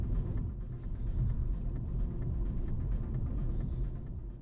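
Nissan Skyline 400R V37 cruising through Tokyo city streets at night, a steady low engine and road rumble heard from inside the cabin, continuous with no voices.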